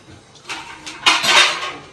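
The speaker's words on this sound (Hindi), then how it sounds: "तो फटाफट पहले धो लेते बर्तन।" Dishes, pots and cutlery are washed by hand at home, giving close, clattering clinks and scrapes that grow louder in short bursts, with no voices.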